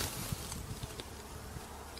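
Bees buzzing around white-flowered wild radish in spring, a soft steady insect drone with brief nearer passes flickering in and out against quiet open-air background.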